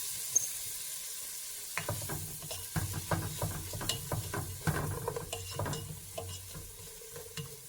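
Onions sautéing in a pan for white chicken chili, with a low sizzle under repeated clattering stirs and scrapes of a utensil against the pan, close and fairly quiet, with no talking.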